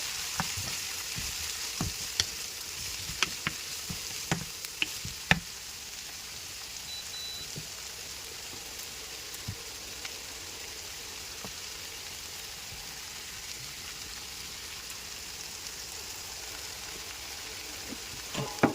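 Chopped onion sizzles steadily in a pan for a chicken curry in coconut milk, a constant soft hiss with occasional sharp clicks and scrapes of a spoon stirring, fairly close and with no talking.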